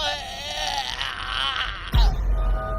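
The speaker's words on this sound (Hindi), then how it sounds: "अचानक तेज चीख के साथ वो भयानक परछाई रघु पर टूट पड़ी।" A sudden loud scream tears through a horror story, beginning as a drawn-out wavering shriek and then cut off by an abrupt heavy thump near the end.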